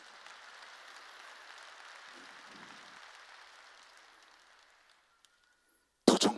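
Church congregation applause at a Jesus-centered sermon, a steady wash of clapping that gradually fades to near silence, followed by a brief loud burst at the end.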